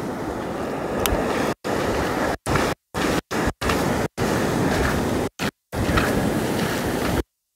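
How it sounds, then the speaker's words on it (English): Strong ocean surf pounds a beach at Kalbarri, Western Australia, where a rip is forming; a loud, continuous roar of breaking waves and wind is repeatedly cut off abruptly by brief silent gaps. "This water's that strong, it feels like it's trying to drag me in by the ankles."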